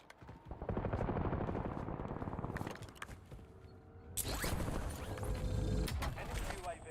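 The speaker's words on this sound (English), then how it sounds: "Great shots, Joe." Rapid automatic gunfire in the video game Warzone, dense bursts of shots in two stretches, loud against game noise and people talking.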